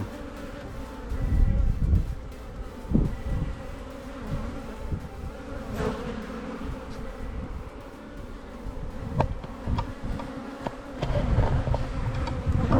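A dense, steady hum of many honeybees buzzing close together inside a hive, continuous throughout with small shifts in loudness and no voices.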